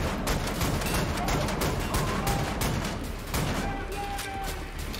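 Heavy gunfire from the video game Wolfenstein: The New Order, continuous loud rattling volleys and booms filling the whole stretch.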